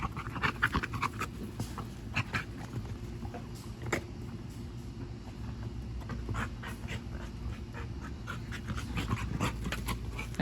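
Two Dogo Argentino dogs pant steadily as they play, a rapid, close, breathy rhythm with occasional sharp scuffles and clicks.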